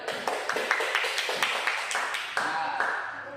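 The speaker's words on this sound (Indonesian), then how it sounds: "Tepuk tangan dulu" Students in a classroom clap their hands in a short burst of quick, steady claps, close and fairly loud, while a voice talks over them.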